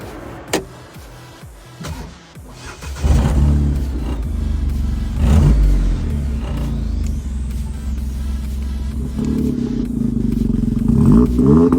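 A 2023 Morgan Super 3 starts up after a few clicks and clunks, then its engine settles into a loud, steady, low throbbing run that swells slightly as the car pulls away.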